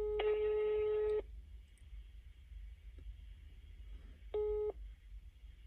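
A phone line gives its ringing tone while a call to someone selling a Fusca is placed: one long tone, a pause with faint background noise, then the start of a second tone.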